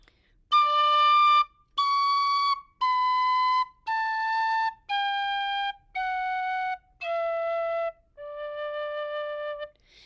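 A tin whistle plays eight separate held notes, each lasting about a second with short gaps between them, the pitch stepping down a scale. The tone is clear and reedy, played close and alone with no talking.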